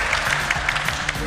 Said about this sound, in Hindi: चलिए सब लोग मिलकर मिस्टर अमन के लिए तालियां बजाइए।